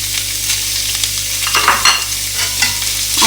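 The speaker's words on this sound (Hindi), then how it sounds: "चिकन को मैंने अच्छी तरह से इसमें फ्राई कर लिया है" Chicken frying with garlic in a pan while being stirred, a loud continuous sizzle broken by several scraping stirs toward the end, close and with no talk.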